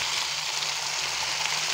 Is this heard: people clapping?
no